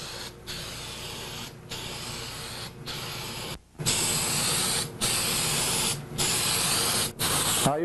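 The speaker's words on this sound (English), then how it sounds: "The first thing you do is you overspray your casting and you take half of each pass." A spray gun lays paint over a memorial casting in repeated passes, each a loud, steady hiss lasting about a second and broken by brief pauses, heard close with no one talking.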